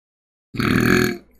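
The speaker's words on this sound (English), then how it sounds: "I haven't even drink the drink yet, and I'm already burping" A single close, loud burp erupts after a moment of silence, a drawn-out throaty rumble lasting under a second before trailing off.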